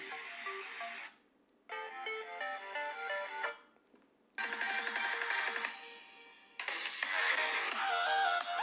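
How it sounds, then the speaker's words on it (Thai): Thin, tinny music plays from a Redmi 9 phone's single mono speaker, lacking bass, with short gaps where the sound cuts out. "เดี๋ยวเปิดเสียง YouTube ไปฟังกันเล็กน้อยดีกว่าว่าลำโพงที่ได้เป็นยังไงนะครับ"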